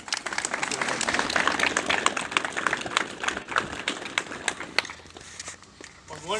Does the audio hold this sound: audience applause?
yes